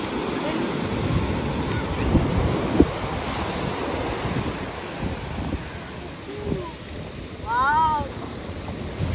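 Surf washing onto a Sri Lankan beach, a steady broad roar of breaking waves with wind buffeting the microphone and brief voices calling out near the end.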